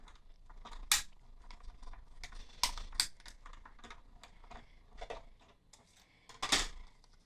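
A manual die-cutting machine runs a standard cutting plate through, making quiet, scattered clicks and ratcheting taps at irregular intervals, with a few sharper snaps standing out.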